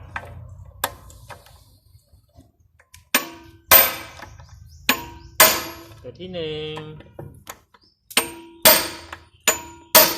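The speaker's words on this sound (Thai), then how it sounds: "ทีนี้ผมก็จะทำการตอกให้แน่นนะครับ" Sharp metallic hammer strikes ring out at irregular intervals, some in quick pairs, driving a part tight while reassembling a Yamaha automatic scooter's kick-start mechanism, with a brief spoken phrase and a short squeak between blows.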